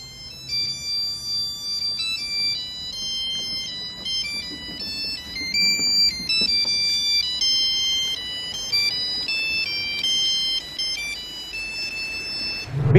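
A homemade monophonic ringtone melody plays from a Nokia 3310 mobile phone, a string of bright beeping notes in a steady tune with no talking, carrying on for several seconds.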